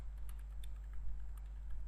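Light keystrokes from a computer keyboard, heard while an invoice is being typed, tapping faintly and irregularly over a steady low hum, with no voices.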